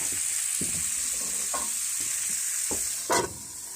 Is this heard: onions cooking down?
yes